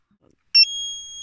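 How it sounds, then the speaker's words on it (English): A single sharp, high-pitched electronic carbon monoxide alarm beep sounds after a brief silence, then rings on as a sustained piercing tone. "This is how the CO2 alarm sounds."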